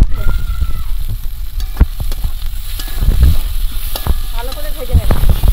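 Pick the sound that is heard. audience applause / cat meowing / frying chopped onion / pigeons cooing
frying chopped onion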